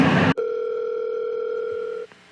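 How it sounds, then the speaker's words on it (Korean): A telephone dial tone sounds while a call is being placed, a steady two-note electronic hum lasting under two seconds after a short burst of noise, then cutting off. "성준이 일 끝났는지 전화 한번 해볼까요?"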